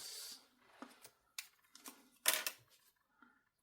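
Scissors snipping paper for a Christmas card, a faint series of short crisp cuts and rustles spaced irregularly, close up and quiet, with no speech.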